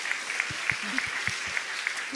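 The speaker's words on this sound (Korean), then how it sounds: "큰 박수를 부탁드립니다" Congregation at a Sunday church service applauding as people walk back to their seats, a steady moderate patter of many hands with a few soft low thumps beneath.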